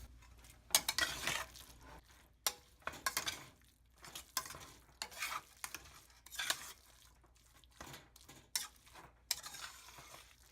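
Mutton keema and masala are stirred in a pan with a spoon, making about a dozen irregular scraping, sizzling strokes with short quiet gaps between them, close and fairly soft, and no one speaks.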